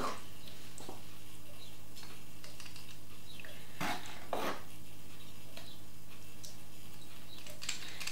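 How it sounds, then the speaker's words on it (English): Risotto primavera being spooned from a pan into a bowl, with scattered clinks and scrapes of utensil on metal and crockery, a couple of sharper knocks standing out over a steady low background hum. "So I'm going to dish some into a bowl."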